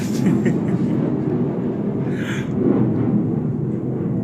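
A fighter jet roars overhead as a broad, steady rumble that swells slightly around the middle, loud and continuous with no talk over it.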